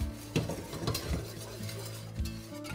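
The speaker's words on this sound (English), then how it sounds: "Stir it in. Get it all broke down and incorporated." Brown sugar is stirred in a pan for caramel sauce, with quiet scraping spoon strokes, light knocks against the pan and a faint sizzle underneath.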